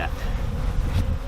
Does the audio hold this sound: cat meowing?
no